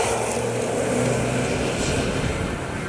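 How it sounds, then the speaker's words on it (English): A Tata Altroz DCA with a 1.2-litre naturally aspirated engine on the move, giving a continuous steady drone of engine and road noise heard from inside the car, without talk. "Now we are starting with a drive of the new Tata Altroz DCA."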